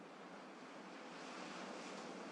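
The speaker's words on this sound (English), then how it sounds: "also notice the sound of the ocean, still present, still in motion" Ocean waves on a shore make a steady, broad wash of surf that swells slightly louder toward the end, continuous and fairly near with some wind noise, no voices.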